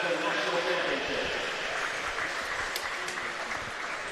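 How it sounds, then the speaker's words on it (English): Steady applause from a crowd for podium finishers at the AusCycling Madison National Championship fills the whole moment, a dense wash of clapping at moderate volume. "a round of applause for all our podium finishers"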